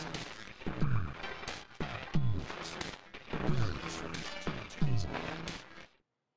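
A song passed through an amplitude modulation effect built in Pure Data, with the left channel multiplied by the right, plays as thick, choppy mono music with punchy repeating hits before cutting off.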